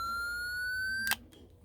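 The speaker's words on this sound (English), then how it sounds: "This one actually has a siren on it." The siren of a pocket weather alert radio gives a single high, piercing tone that rises slightly in pitch, then stops abruptly with a click.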